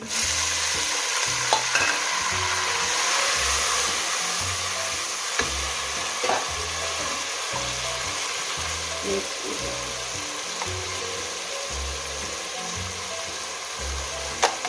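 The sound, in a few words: tomatoes frying with browned onions, stirred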